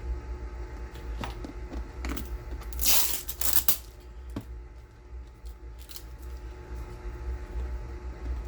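Packing tape being peeled off a Beretta pistol case during a Beretta APX Centurion unboxing: soft, quiet ripping and crackling pulls, with a louder tearing burst midway over a low steady background hum.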